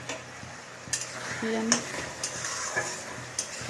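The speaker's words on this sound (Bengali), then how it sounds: "এটা আমাদের টমেটোটা গুলতে দিয়েছি" Tomatoes cooking in a pan with chicken to follow, a soft sizzle under occasional sharp clinks of a utensil against the pan, close and fairly quiet.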